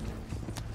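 Horses in Red Dead Redemption 2 clop along in a brief, faint stretch of steady hoofbeats under low rumbling ambience.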